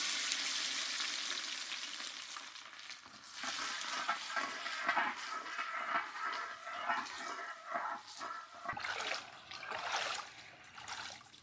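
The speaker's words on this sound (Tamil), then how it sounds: "சிறுசா வெட்டி வச்ச இஞ்சியும் பூண்டு போடலாம்." Chopped ginger and garlic dropped into hot oil already crackling with mustard seeds and fenugreek for a Kerala fish curry, giving a steady, fairly loud sizzle with bursts of spattering and stirring scrapes throughout.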